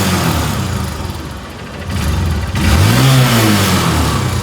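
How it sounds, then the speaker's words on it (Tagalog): A motorcycle engine with a fault stumbles and holds back for a couple of seconds, then suddenly revs up loud and close, its pitch climbing as the throttle opens. "Parang mayroon muna siyang pigil tapos biglang bibirada."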